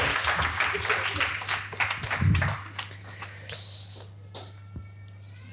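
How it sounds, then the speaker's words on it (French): A church congregation claps for two performers after an illustration during a sermon, a burst of applause that thins out and fades into scattered claps and quiet room tone. "vous pouvez les applaudir"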